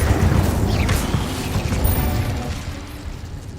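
Incendio spell cast in Hogwarts Legacy, a loud sustained whooshing, rumbling burst with mechanical creaks and clanks that slowly fades out.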